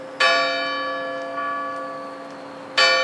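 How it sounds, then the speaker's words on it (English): A church bell strikes the quarters with two clear, ringing chimes about two and a half seconds apart, the first hum fading slowly before the second stroke. "the chimes of a neighboring church struck the 4 quarters"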